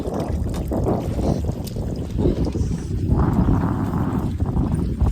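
A motorboat ride from an island back to Shivrajpur beach near Dwarka, with steady engine and water rush mixed with wind buffeting the microphone throughout, loud and close.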